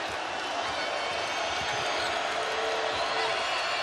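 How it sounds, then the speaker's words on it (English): Crowd at a Texas Tech vs Oklahoma men's college basketball game roaring in a dense, sustained wash of noise, with a commentator's voice faintly underneath. "Loudest the crowd has been in quite some time."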